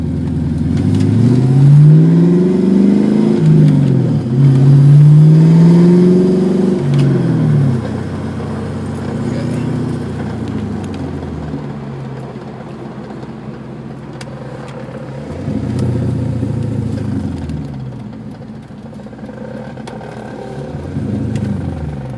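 A 1996 Mustang Cobra with a rattling, grinding transmission, its engine revving up and down in loud swells, then idling with a lower rough rumble and further brief revs.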